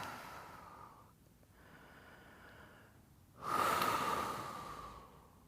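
Deep breathing through a stretching workout: a steady inhale and exhale, a pause, then a louder, more forceful breath that fades away, close and alone with no talking.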